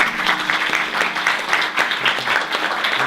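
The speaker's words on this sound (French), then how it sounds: "je vous demande de l'applaudir" An audience applauds explorer Emmanuel Hussonnet at a press conference in Île-de-France, with steady, dense clapping filling the room throughout and a few scattered louder claps.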